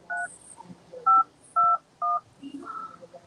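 A telephone keypad on an interactive phone exhibit sounds a series of clear dialing tones, about four short evenly spaced beeps. Faint murmurs of people are heard in the background.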